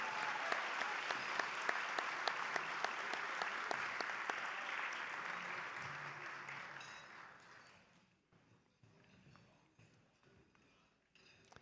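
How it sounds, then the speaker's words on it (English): Applause from a dinner audience at the Union League of Philadelphia for founding board of trustees members, steady and fairly loud for about seven seconds before fading into quieter room noise with scattered claps. "Please take a moment and give them a round of applause and a thank you."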